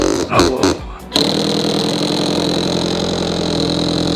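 A small electric motor on a remote-controlled toy trike whirs steadily and close after a few brief bumps and clatters, a thin continuous hum that runs on without pause.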